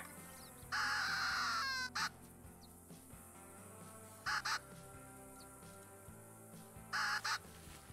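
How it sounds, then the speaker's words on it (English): A crow caller blown in theHunter: Classic gives three loud, harsh cawing blasts, the first long and the other two short paired bursts, separated by quieter gaps with faint background game ambience. "That's the goofiest sounding caller. It's a crow caller."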